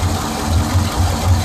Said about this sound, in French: Le moteur Excalibur.